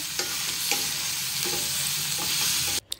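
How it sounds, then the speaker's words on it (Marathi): Stuffed bitter gourd stirred into garlic frying in a pan: a steady close sizzle with repeated scraping stirs of a spoon, cutting off abruptly near the end. "आता आपण जे कारले भरले होते ते सगळे आपण कारले याच्यात टाकायचे, मिक्स करायचे"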